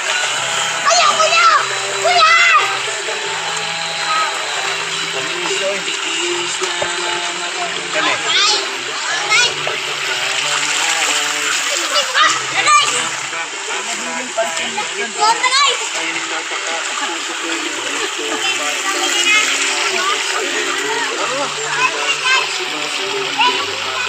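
Children splash and play in a river in Sogod, Southern Leyte, with steady water noise running under frequent excited chatter and calls from kids and adults.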